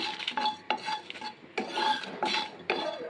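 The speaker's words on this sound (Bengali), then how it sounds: "মশলাটাকে বেশি লাল করে ভাজতে হবে না, হালকা একটু ভেজে নিলেই হবে।" Ground masala spices being lightly fried for chicken maharani are stirred in a pan, giving repeated bursts of scraping and clinking spatula strokes against the metal, close and distinct, with short pauses between strokes.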